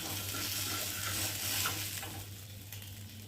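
Pieces of bhola fish frying in hot oil in a pan give a steady close sizzle with a low constant hum beneath, easing slightly toward the end.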